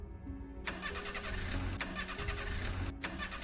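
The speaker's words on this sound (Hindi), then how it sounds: "इंजन ने आवाज की," Car engine cranking and failing to catch, a dense rough mechanical churn with brief gaps, loud and close, set in a foggy mountain-pass horror scene.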